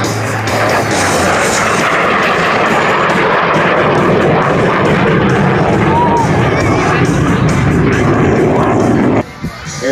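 A Soviet MiG-17 jet fighter makes a high-speed low pass at an air show, a loud sustained roar filling the air with a faint crowd murmur beneath before it fades abruptly near the end.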